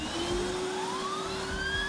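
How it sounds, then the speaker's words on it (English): The turbine in the turbo brush of a Polti Vaporetto Lecoaspira steam vacuum whirs steadily, its tone rising as it spins up, over the vacuum's continuous motor drone. "when I turn on the vacuum, you're going to hear a whirring sound"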